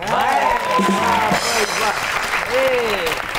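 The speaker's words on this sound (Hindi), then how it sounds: "आपकी बहुत सी तालियों में the one and only Meham कमाल" Studio audience applause and crowd noise for a guest on a Pakistani comedy stage show, a dense steady wash of clapping with voices mixed in over it.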